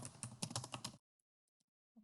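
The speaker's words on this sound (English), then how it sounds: "you'll keep on typing out as the assignment asks you to do" Keys clatter on a computer keyboard in a quick, close burst of typing that stops abruptly, leaving near silence with a couple of faint clicks afterward.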